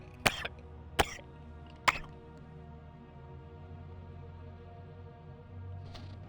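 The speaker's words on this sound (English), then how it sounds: "Still got this lingering cough because weather keeps shifting rapidly around here" A person with a lingering cough lets out three sharp, close coughs in quick succession, followed by quiet with a low background hum and a brief breathy sound near the end.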